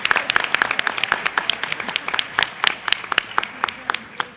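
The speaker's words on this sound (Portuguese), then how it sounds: "agora aqui eu peço uma salva de palmas" Audience in a lecture hall claps in sustained, lively applause, dense overlapping hand claps filling the room at close range with no one speaking over it.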